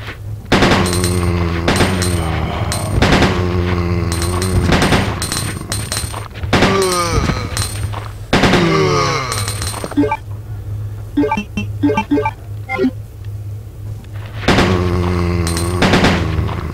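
Zombies shot down with repeated gunfire in Resident Evil 2 on PC: loud bursts of shots in clusters with ringing metallic clinks between them, a tense music bed underneath, and a brief quieter stretch before the shooting resumes.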